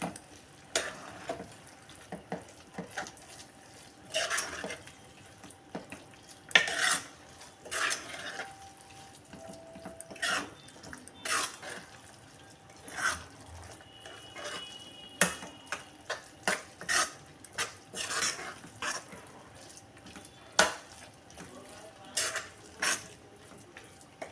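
Masala khichdi stirred in a pot, with repeated sharp clinks and scrapes of a spoon against the metal rim in an irregular rhythm over a soft background sizzle.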